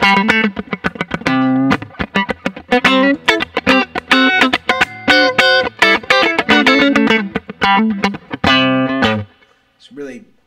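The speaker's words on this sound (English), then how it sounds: "I think that this is the one of the best sounding compressors." Electric guitar played in quick, sustained picked notes with a smooth, squashed, even tone, ending abruptly with a brief pause and a faint final pluck.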